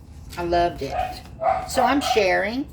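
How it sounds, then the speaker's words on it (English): Pet dogs bark and yip repeatedly in a house, loud and close, with someone talking over and between the barks. "Excuse my dogs, they will bark."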